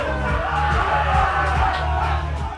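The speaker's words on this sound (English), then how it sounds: "chanting marked the achievement in the changing room" Football team chanting in a changing room after a win: loud, rhythmic group voices with shouts and whoops, steady and close throughout.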